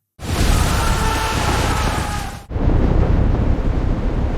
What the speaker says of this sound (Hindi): 12 धमाके, 12 बार मौत गरजी।